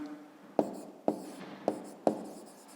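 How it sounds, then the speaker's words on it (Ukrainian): Pen on paper writing an answer by hand in a 5th-grade math exercise, with four distinct tapping strokes at roughly half-second intervals and soft scratching between them, close and fairly quiet. "Пишемо відповідь."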